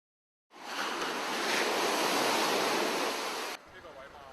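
Ocean waves at Golden Beach break in a loud, broad rushing wash that starts suddenly and holds for about three seconds before cutting to a quieter background.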